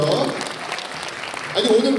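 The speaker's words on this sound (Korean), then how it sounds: "박수 한번 주세요" Brief scattered clapping from a small group at a history concert during a Donghak festival in Boeun, Korea, with voices talking over it at the start and end.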